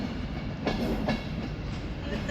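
A Northern service train departs Manchester Piccadilly, giving a steady low rumble with a couple of faint wheel clacks, moderately distant, with no talk.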